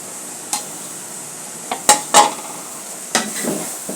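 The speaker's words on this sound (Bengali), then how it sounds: "আবার একটু নেড়ে দেব" Taro greens frying in a pan get stirred, with a few sharp metallic clinks of a utensil against the pan standing out over a faint, quiet cooking hiss.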